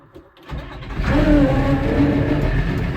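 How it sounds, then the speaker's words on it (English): A Case 2090 tractor engine cold starts with the heater plugged in, cranking briefly before catching and rising into a loud, steady revving diesel roar heard close up. "This tractor always starts good"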